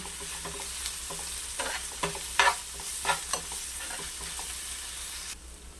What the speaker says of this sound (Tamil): எல்லாத்தையும் நல்லா மிக்ஸ் பண்ணிக்கலாம்